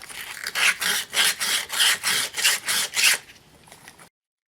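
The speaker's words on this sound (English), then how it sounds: "I'm going to grab some fine grit sandpaper and try that. I've got some 220 sandpaper here." A small engine carburetor part rubbed with 220 fine grit sandpaper, nine or ten close, even rasping strokes in a steady rhythm that then fade to a few faint scuffs before stopping.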